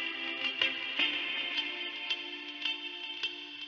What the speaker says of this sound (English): that's why it has that chorus-like effect